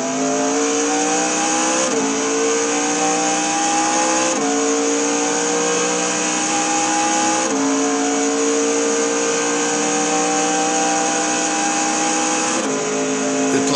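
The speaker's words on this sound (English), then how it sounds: "First gear corner. A lot of tire spin right here." Race car in a racing game at Le Mans, pulling out of the first-gear Mulsanne corner with loud, sustained engine whine and tire spin, the pitch climbing and dropping through several gear changes.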